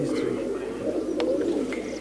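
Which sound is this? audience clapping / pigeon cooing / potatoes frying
pigeon cooing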